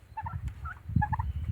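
Turkeys gobbling in a quick burst of rapid warbling calls, fairly close and moderately loud, with no voices over them.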